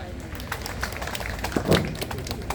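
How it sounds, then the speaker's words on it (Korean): A crowd claps at an outdoor rally in Incheon calling for the transfer of the capital-region landfill, the irregular, moderately loud applause carrying on with a few sharper claps standing out. "큰 박수 부탁드리겠습니다"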